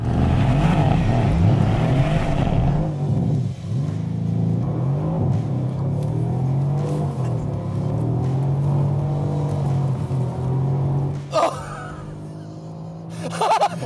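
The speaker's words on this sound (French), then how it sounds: "Le bruit des C63 de chez Mercedes, c'est vraiment la folie quoi." A Mercedes C63 biturbo V8 roars and revs continuously on an airstrip, with rising pitch sweeps as it accelerates, loud and close throughout, then a brief tire squeal near the end.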